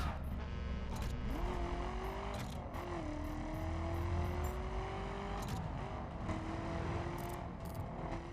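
A car engine hums steadily while driving around in the racing game The Crew on PS4, its pitch rising and settling through gear changes over a continuous low road rumble.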